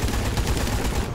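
Rapid, continuous gunfire in Rambo The Video Game, a dense run of close, loud shots hammering steadily with no pause, heavy low-end thump under the crackle.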